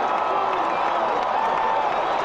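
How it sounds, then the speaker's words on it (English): A crowd in the OOTP18 baseball video game applauds during a 1936 Yankees versus Tigers matchup, a dense, even wash of clapping and murmur filling the whole short stretch. "Yankee fans, sigh of relief and some applause there."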